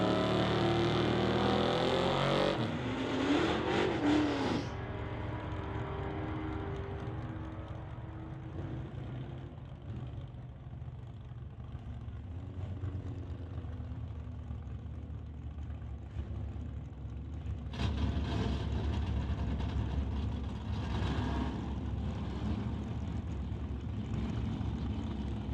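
A Camaro races a Chevy pickup down the drag strip, a brief loud engine launch followed by a long steady distant drone that swells again near the end, with no talk.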